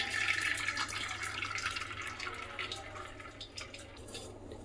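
Curdled milk poured through a white cotton cloth to strain homemade paneer gives a continuous close trickle and splash of liquid with small dripping sounds, steady for several seconds.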